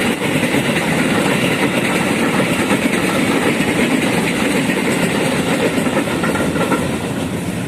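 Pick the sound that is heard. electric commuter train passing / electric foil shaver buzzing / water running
electric commuter train passing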